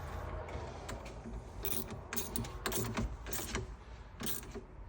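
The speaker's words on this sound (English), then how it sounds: "let me grab my 10mm here. I'm gonna tighten this terminal first." A 10mm wrench tightening a car battery terminal on a BMW X5, several quick metallic ratcheting clicks and clinks in short bursts, close and clear against a low background hum.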